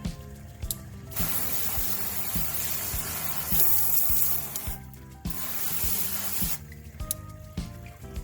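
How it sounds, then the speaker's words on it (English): Water sprays hard from a handheld shower sprayer head in a bathroom sink area while rock tumbling gear is being cleaned, a steady close hiss broken by short pauses and rhythmic knocking underneath. "Just playing with the shower head with the sprayer head."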